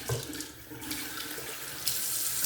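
Tap water runs steadily into a sink while a double-edge safety razor is rinsed off after a shave, a continuous close splashing hiss with a brief surge near the end and no talking.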